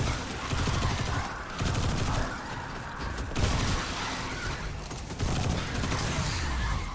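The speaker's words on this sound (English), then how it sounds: "Who's still shooting me?" Video game gunfire crackles in rapid bursts and sustained volleys, a dense mid-level barrage of shots with brief pauses between flurries, no talk over it.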